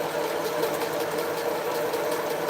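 Sewing machine stitching across a quilt's double seam, a steady close mechanical hum with fast, even needle chatter, continuous and without talk.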